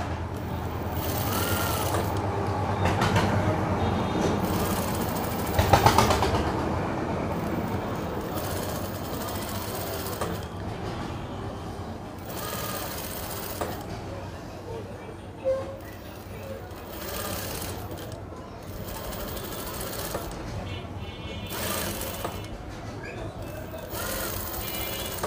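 A sewing machine stitching a frock in a tailoring lesson: rapid mechanical whirring and ticking runs in bursts with short pauses, fairly close, while a person talks over it.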